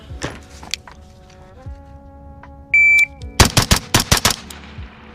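Suppressed gunfire from an 11.5-inch SOLGW L89 carbine and a Glock 45 pistol during a drill: a shot-timer beep, then a rapid string of about six sharp, muffled shots in an uneven rhythm, fairly close.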